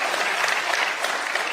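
Audience applause fills the room in a steady, dense wash of clapping, loud and continuous throughout with no pauses.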